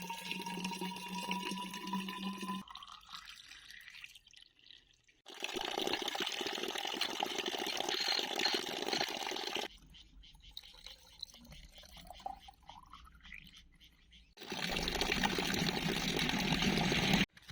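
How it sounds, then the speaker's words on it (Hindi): Spring water gushes and splashes steadily in a mountain forest, with rising gurgling tones as bottles fill, stopping and starting between fills. "तो ये देखो यहाँ पे कुछ इस तरीके से पानी आ रहा है। तो चलिए यहाँ से पानी भर लेते हैं।"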